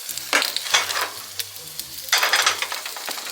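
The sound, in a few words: breakfast frying in a pan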